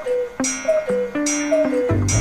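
A cuckoo clock gives a run of sharp clicking ticks at an uneven pace, each one ringing with a short pitched tone, close and clear with no talking.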